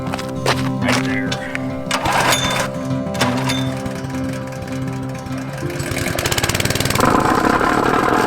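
A small Honda gas engine runs near a paver driveway job, a close steady mechanical chugging with pulsing rhythm that rises in intensity toward the end, mixed with some clatter.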